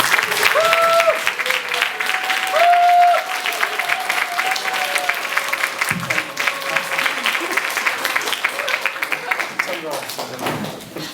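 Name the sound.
audience applause welcoming a pastor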